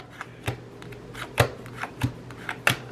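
A deck of playing cards being flicked through by hand, giving sharp papery snaps at an irregular pace, close and clear, with no talk over them.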